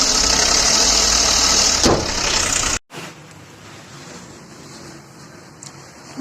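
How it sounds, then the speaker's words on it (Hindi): Worn timing chain in a car engine rattling at startup, a loud, steady mechanical clatter that cuts off abruptly, followed by a quieter low hum. "ये स्टार्ट करती है आवाज आती है खड़ खड़ खड़ खड़।"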